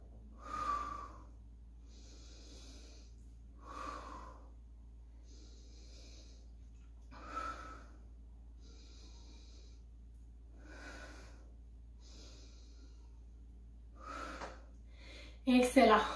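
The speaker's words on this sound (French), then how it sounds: "on va commencer par prendre 5 grandes respirations." Deep breaths taken during a workout cool-down, about five slow inhale-exhale cycles spaced a few seconds apart, close and moderately loud, ending with a brief burst of noise.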